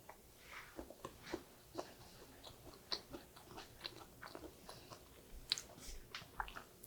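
Close, crisp chewing of steamed carrot dressed in soybean flour, with a steady run of soft bites and crunchy, wet mastication sounds and no talking.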